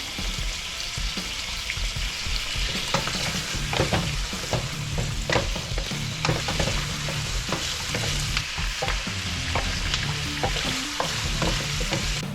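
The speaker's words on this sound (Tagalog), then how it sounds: "Ayan, hinalo ko na yung siningkotsa natin yung patatas sa carrots." Potatoes and carrots sizzling in a frying pan while being stirred, a steady frying hiss with repeated scraping strokes throughout, close and fairly loud, no talking.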